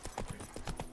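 Hooves of Roach, Geralt's horse in The Witcher 3, beating in a quick rhythmic gallop, about six close, crisp strikes in a single second.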